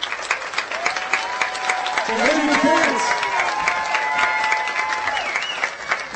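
A large crowd applauds and cheers steadily at the opening ceremony of the WBSC Junior Men's Softball World Championship 2018. The dense, swelling applause runs throughout, while a voice on the public address speaks over it.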